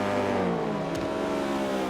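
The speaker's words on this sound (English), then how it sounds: "was that a car I saw off in the background there?" Race car engine in a racing video game, a steady high-pitched drone passing close by with a brief whoosh midway, heard alone without talk.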